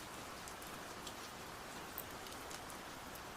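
Steady rain falls in a soft, even hiss with faint scattered drop ticks, quiet and constant with no voices.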